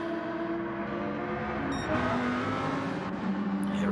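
Race car engine in a Fuji circuit racing game, a steady droning hum heard from a distance, rising slightly in pitch as the car runs down the start-finish straight.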